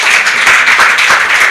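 Audience applause at the FIDA-Kenya annual conference opening ceremony in honour of Mercy Okiro, a dense, steady wash of many hands clapping throughout.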